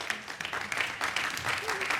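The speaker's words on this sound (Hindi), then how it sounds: "ये आपकी जिंदगी की अंतिम तालियां हैं, सुन लीजिए" Studio audience at a Hindi TV serial bidding game claps in a steady patter of applause, with a voice speaking faintly over it.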